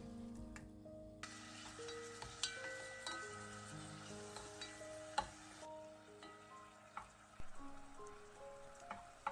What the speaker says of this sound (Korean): 냄비에 참기름 2큰술을 두르고 쇠고기를 넣고 중불에서 볶는다.